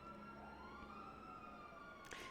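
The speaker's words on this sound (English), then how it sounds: "That's an ambulance and a cop car. All right, let's leave the sirens alone." Ambulance and police car sirens in GTA V NoPixel roleplay wail steadily as a sustained tone, fairly faint and distant, ending with a short burst of noise.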